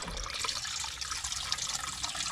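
Steady splashing water runs continuously, like liquid being poured into a container, with a broad hissing texture and no voices.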